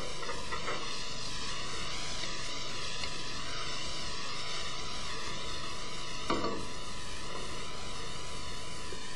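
Squid pieces sautéing in a pan while tomato goes in, a steady broadband sizzle that runs unbroken from start to finish with a brief stir or clatter partway through.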